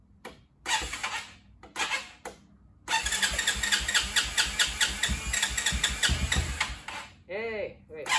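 A Can-Am ATV engine, just after a carburetor cleaning, cranks in short bursts, then catches at about three seconds and runs loud and steady with uneven revving close by. It drops away near the end, and a voice briefly exclaims.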